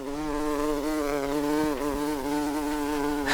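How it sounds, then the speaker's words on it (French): A small fly buzzes steadily and close up, a continuous whining drone that wavers slightly in pitch and never breaks, with no voices present. "Avec un bourdonnement agaçant"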